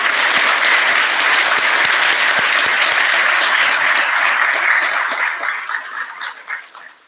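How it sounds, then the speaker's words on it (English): An audience at a class graduation breaks into a round of applause, a loud, dense clatter of many hands held steady before tapering off and thinning out over the last couple of seconds. "join me in a round of applause for each of these individuals"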